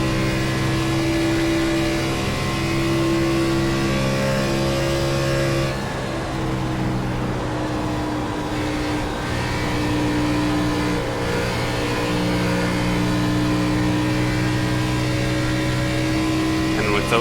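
NASCAR race car engine in the iRacing sim at Kansas, a steady sustained high-revving drone with a brief dip in pitch midway, heard loud and close under someone talking.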